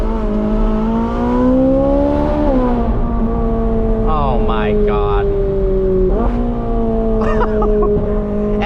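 A stock Ferrari 458 Speciale Aperta V8 exhaust holds a loud, steady, droning note that rises and then shifts pitch twice, with a person's brief exclaimed remark over the engine.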